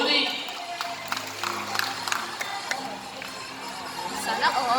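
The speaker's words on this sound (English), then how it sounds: "A round of applause for Blue and Goldie." Audience at an Ocean Park bird show clapping with scattered applause and crowd chatter under a presenter's amplified voice, moderately loud and continuous.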